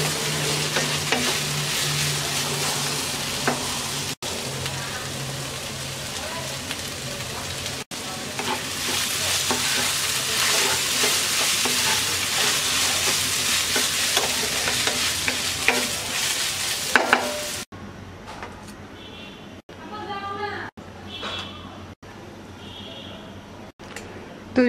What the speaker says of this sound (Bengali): দিয়ে দিচ্ছি ধনিয়া পাতা কুচি, দিয়ে মিক্স করে নামিয়ে নেব।